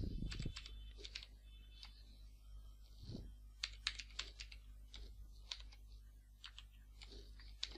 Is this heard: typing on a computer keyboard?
yes